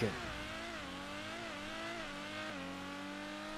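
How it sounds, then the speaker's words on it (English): A high-priced sports car in the video game GTA V revs and zooms away, a steady engine drone with rising and falling pitch as gears change, loud and continuous throughout. "And then I zoom off in my, like, 700k car."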